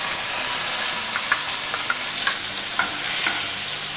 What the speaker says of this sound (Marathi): कांदा आणि टॅमॅटो, आलं लसूणची जी पेस्ट नाही घालत म्हणून आपण जी घातली आहे ती चांगली तेलात खमंग परतून घ्यायची आहे आपल्याला.